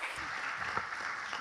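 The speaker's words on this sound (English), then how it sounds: "This applause is for you." Audience applause after a panel talk on international law immunities, a steady wash of clapping from many hands, moderately distant and fairly soft, continuing evenly throughout.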